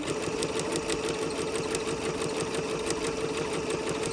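A sewing machine runs a gathering seam with a long stitch line guided along the presser foot, giving a steady, close, fast mechanical whirr with rapid needle clatter throughout and no talking.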